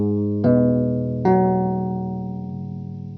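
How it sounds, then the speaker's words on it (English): A guitar chord through a Digitech Drop pitch-shift pedal rings out, then is struck again and sustains. A faint digital warble from the pedal's pitch tracking sits under the bright, distorted tone, with no talking. "There's a tracking noise that you can hear the pitch change with the chord."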